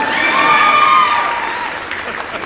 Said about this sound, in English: So if they keep clapping until she gets all the way up there